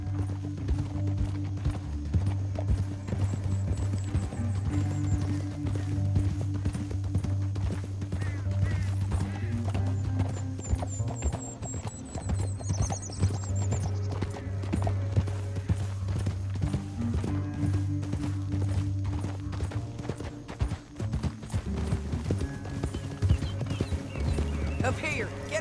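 Steady clip-clop of galloping horse hooves in Red Dead Redemption 2 runs throughout, layered under a dramatic orchestral score with occasional whinnies and speech.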